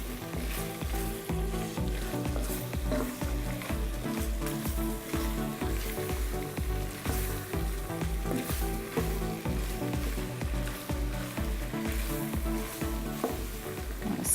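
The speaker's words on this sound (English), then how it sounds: "We're going to cook this for about 5 minutes just to get the vegetables nice and soft." Gumbo vegetables sizzle in a roux in a pot, with a continuous frying hiss over a rapid, regular pulse of stirring strokes, moderately loud and close.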